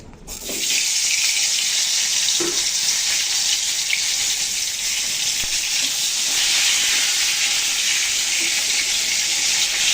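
Eggplant pieces fry in hot oil with a steady, loud, bright sizzling hiss that holds evenly throughout, with no talking.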